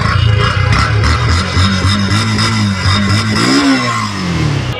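A nearly new Yamaha FZ-S Version 2 motorcycle with about 600 km on it revs close and loud, its engine note rising and falling through a few throttle blips over a steady idle.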